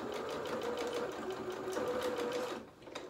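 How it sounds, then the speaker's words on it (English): Close, steady whir of a sewing machine stitching a seam on a small festive doll's dress, running continuously for over two seconds before slowing to a stop, with a faint click as it ends. "I am going to do a couple of stitches reverse at the beginning and at the end just to secure that seam"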